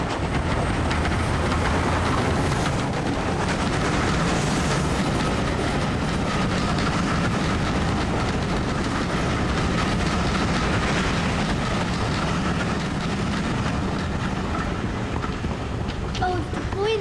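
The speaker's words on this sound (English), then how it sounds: "A train! Stand back!" A train thunders past at close range along a railway line, a loud, continuous roar of wheels and carriages that stays heavy from start to finish.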